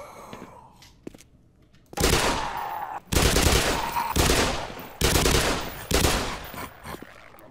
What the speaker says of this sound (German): Da haben wir mal gut geschossen